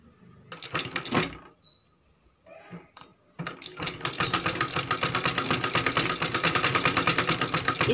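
A sewing machine stitches a long straight seam on blouse fabric. A few short bursts and handling noises come first, then a close, steady run of rapid rhythmic needle clatter that lasts to the end.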